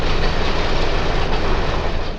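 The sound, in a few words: 1926 heavyweight electric multiple-unit train cars on IC electric line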